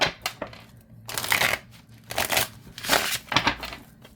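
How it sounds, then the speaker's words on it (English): A tarot card deck is shuffled overhand in a series of quick papery riffles and slides, several bursts with short pauses between them, close and fairly soft. "I never showed you the shuffle."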